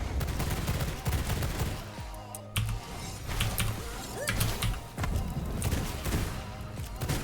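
Gunfire rings out in the vampire survival video game V Rising, with several sharp shots and short bursts separated by pauses, mixed among thuds and other game sounds.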